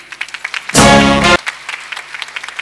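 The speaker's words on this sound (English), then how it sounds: "The applause needs to be louder, ladies and gentlemen." Scattered, uneven claps from a school Annual Day audience greeting the principal, Ms. Soma Chatterjee, as she comes on stage, broken by a brief loud musical burst in the middle.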